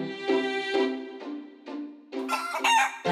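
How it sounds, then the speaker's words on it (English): A chicken clucks and squawks in several short bursts, loud and close, with a rising flurry of calls near the end. "That watermelon just clucked like a chicken."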